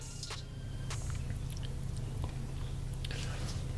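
Someone munches on Wendy's fast food close to the microphone, with irregular crunchy bites and wet chewing sounds over a low steady hum.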